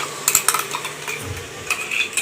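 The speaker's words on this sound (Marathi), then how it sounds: "जो कांदा आणि अद्रक लसूण वाटून घेतले ते टाकून घ्यायचं" Ground onion and ginger-garlic paste going into a pot for a vegetable biryani, with clinking utensil taps against the metal and a brief low sizzle as it is stirred, close and without talk.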